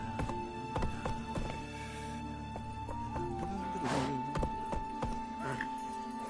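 Galloping hooves of the horse Roach in the video game The Witcher 3, moderate rhythmic thuds under sustained game music and ambience, with a brief whoosh partway through.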